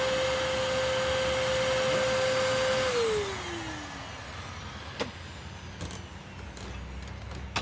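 A Eureka Boss Capture bagless vacuum cleaner, roughly a dozen years old, runs with a loud steady whine, then winds down to a lower rushing hum, with a few brief knocks near the end.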